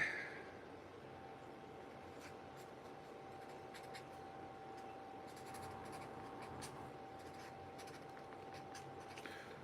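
A pen or marker writes by hand on a toy skull at a work table, giving soft intermittent scratchy strokes. The strokes are faint and close, set against a low steady hum from the room.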